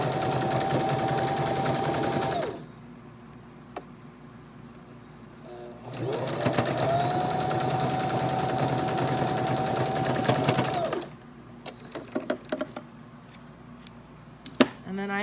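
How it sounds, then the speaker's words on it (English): A sewing machine stitches the seams of a fabric face mask at half-inch seam allowance in two steady whirring runs, close and alone, separated by a quieter pause with light clicks and handling. "we're going to stitch the two bottoms together and then we're going to pick one side and we're going to stitch that side"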